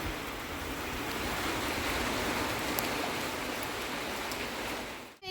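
Heavy rain falls outside in a steady, dense wash of noise, holding even throughout before cutting off abruptly at the very end, with no talking.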